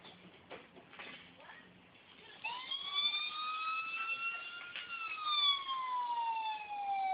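A small grille-mounted speaker on a toy Peg Perego Gaucho Jeep plays a police siren, a thin, faint wailing tone rising and falling, preceded by a few quiet clicks.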